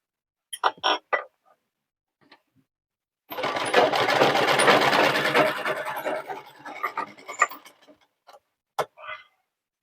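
A sewing machine runs in one steady burst of several seconds, stitching a sleeve onto a nurse's uniform at the shoulder. Scattered clicks and handling noises come before and after it.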